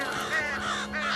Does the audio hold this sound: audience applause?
no